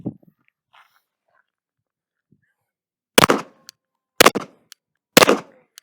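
Rifle gunfire of larger caliber than .22, three loud sharp shots about a second apart, each with a brief echoing tail, following a few seconds of near silence.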